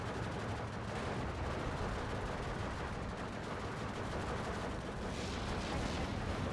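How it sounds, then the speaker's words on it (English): An artillery barrage in the war game Steel Division II makes a continuous dense rumble of blasts and crackling gunfire with no break, with no talking. "now it's just trying to leave before the artillery comes down on us"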